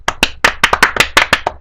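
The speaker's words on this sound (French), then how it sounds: "On t'applaudit." Hands clap about ten times in a brisk, slightly uneven rhythm, close and loud, with no other sound.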